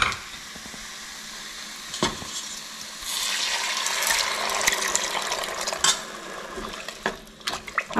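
Beef pieces drop into a pan of frying masala for Kerala-style beef curry with tapioca, setting off a steady, close sizzle that swells after a few seconds, with stirring scrapes and clinks of the pan over it.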